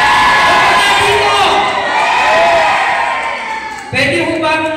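A large crowd at a live Filipino event shouts and cheers loudly in response, a dense sustained roar that dips briefly and then surges again, with voices mixed in.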